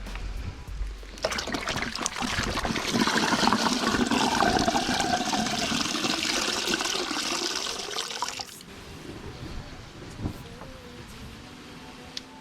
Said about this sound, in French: maintenant on va rajouter de l'eau du robinet jusqu'au 1050